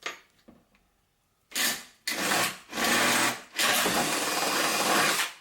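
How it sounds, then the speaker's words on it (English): Power drill biting into an acrylic plastic sheet, with faint taps at first and then three or four loud grinding bursts of rising length, close up. "Just let the drill do the work."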